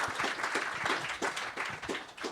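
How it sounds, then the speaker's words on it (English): An audience applauds at a National Cancer Prevention Day gathering, giving a continuous, fairly close round of clapping with slightly uneven pulses. "that deserves a round of applause for you"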